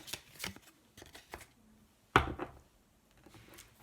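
Tarot cards are handled and shuffled in soft, quick riffling bursts, then one card is drawn and set down with a crisp, louder snap, all close and quiet with no talking.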